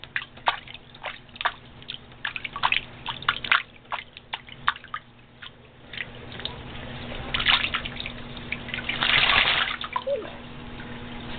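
A bird bathing splashes water in repeated bursts with dripping, with a heavier flurry of splashes near the end, close by and without speech.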